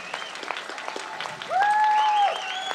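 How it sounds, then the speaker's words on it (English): An audience applauding after a music meditation performance, with a dense patter of clapping and a brief whistle-like tone partway through, no talking. "Let us give a very big applause."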